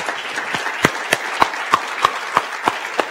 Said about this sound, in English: I think a big round of applause and appreciating the work that they've been doing